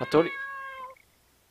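In the horror video game Chloe's Requiem, a cat lets out a single clear, drawn-out meow that fades after about a second, with a brief spoken exclamation just at its start.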